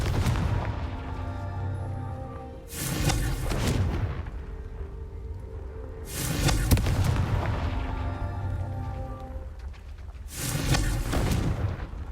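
Confringo fire blast spell exploding in Hogwarts Legacy: three loud booming blasts with rumbling tails, spaced a few seconds apart over a tonal game background.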